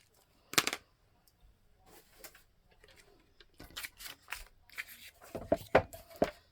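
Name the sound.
cutting a junk mail envelope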